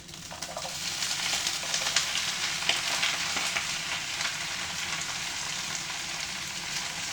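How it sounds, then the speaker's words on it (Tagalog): Kale and mushrooms stir-frying with ginger in a pan give off a steady, close sizzle with soft crackles and faint stirring scrapes. No one speaks. "Ganyan lang mag-fry po."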